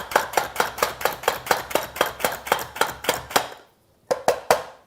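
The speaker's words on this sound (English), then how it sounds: "if you wanted to, you could continue chopping to make it even finer" Onions chopped by a hand-operated kitchen gadget: a steady run of about fifteen sharp, evenly spaced chops close by, then a brief pause and three more strokes.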